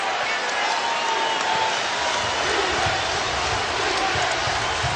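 A dense, roaring basketball arena crowd cheers steadily at Freedom Hall during Louisville's final game there against top-ranked Syracuse in 2010, a loud continuous wash of voices with a commentator talking over it.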